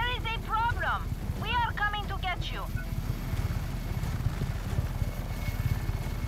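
A helicopter in the video game Just Cause 3 gives a constant low, pulsing rotor rumble throughout, with a voice talking over it at the start.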